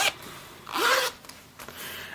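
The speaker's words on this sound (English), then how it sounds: "You have the zipper." A zipper on a traveler's notebook cover, pulled in one quick close zip, with light rubbing before and after.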